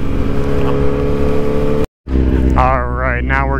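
A motorcycle engine rumbles loud and close during Laconia Bike Week, cuts out briefly, then rises again with a wavering revving tone, with a voice talking over it.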